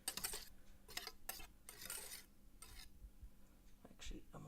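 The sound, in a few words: stirring egg whites into yolks in a bowl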